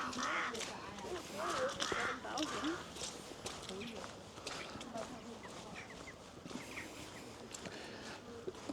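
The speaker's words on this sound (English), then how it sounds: "Crows are going nuts." Crows caw repeatedly in the distance, harsh calls scattered over a murmur of speech and footsteps outdoors.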